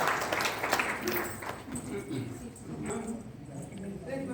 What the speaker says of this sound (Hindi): एक बार जोरदार तालियों से त्रिवेणीनाथ जी का स्वागत है